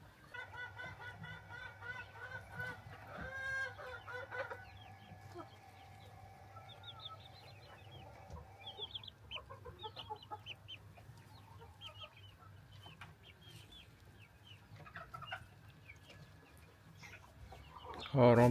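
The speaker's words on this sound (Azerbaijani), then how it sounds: "Burada isə toyuqlarımız su içir." Chickens cluck softly while drinking medicated garlic water indoors in a coop, a continuous murmur of clucks and chirps at low volume with a steady background hum, and a brief louder knock at the end.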